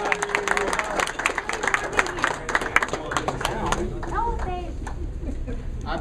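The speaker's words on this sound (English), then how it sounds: "nice round of applause" Audience clapping and cheering at a pool trick-shot exhibition, a dense crowd sound with voices talking over it throughout.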